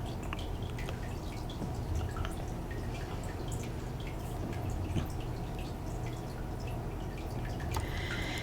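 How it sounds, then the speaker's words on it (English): Rain falls steadily in the video game All Of Us Are Dead, a continuous soft patter with scattered close drips tapping on top, alone with no voices. "Ah, look, it's raining."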